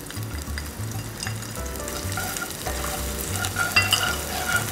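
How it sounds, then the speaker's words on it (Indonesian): Shallots and garlic dropped into hot oil fry with a close, crackling sizzle, punctuated by stirring and scraping in the pan, with no talk. "sudah panas, masukin dulu bawang merahnya."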